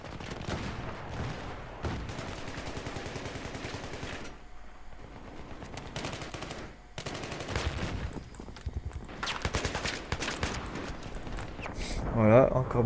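Battlefield 3 combat rattles with rapid machine-gun bursts and gunshots, mid-loud, then a brief lull before more firing and a louder blast near the end, with someone talking over it.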